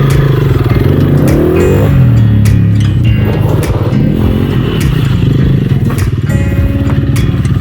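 Motorcycle on a dirt park trail slowing to a stop on its front brake with the clutch pulled in, a loud close engine drone with shifting pitch, clattering and scraping throughout.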